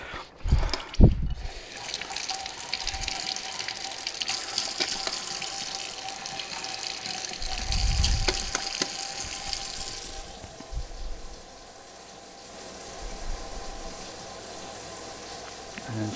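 Tap water runs into a sink, rinsing soap suds out of e-liquid bottles, with a steady close hiss of flowing water, sloshing and occasional knocks, before the flow stops near the end.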